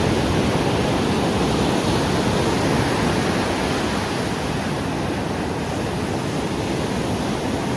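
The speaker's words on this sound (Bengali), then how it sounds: "এত সুন্দর এই সমুদ্রের গর্জন, ঢেউগুলো আছড়ে আছড়ে এসে পড়ছে" Sea waves at Gopalpur beach roar without a break, a dense, loud wash of surf crashing onto the shore, with no voices over it.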